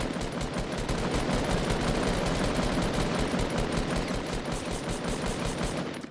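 Rapid automatic gunfire from the Fortnite battle royale game rattles continuously in dense bursts, loud and unbroken throughout with no speech.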